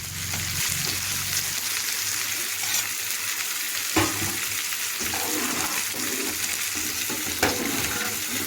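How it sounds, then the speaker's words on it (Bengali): Chopped susuni greens fry in a pan with continuous sizzling and crackling, punctuated by occasional scraping clatters of stirring; no voices. "রান্না করলাম তোমার যে শাক ভাজা, শুশুনির শাক ভাজা"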